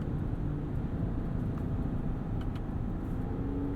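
A 2021 GMC Yukon Denali with a Duramax diesel engine drones low and steady from inside the cabin while downshifting from speed, with a rising engine note near the end under constant road rumble.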